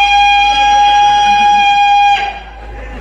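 A steady electronic siren tone holds loud and constant for about two seconds, then drops away, with a muffled voice underneath.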